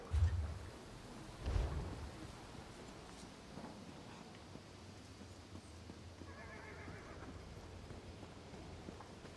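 Horse in Elder Scrolls Online whinnying twice in quick loud bursts near the start, with hoof clip-clop and a low steady ambient rumble continuing alone afterward.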